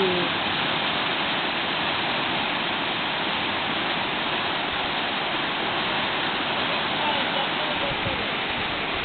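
Water at Belknap Springs in Oregon pours and rushes in a loud, continuous wash, close and steady throughout with no break.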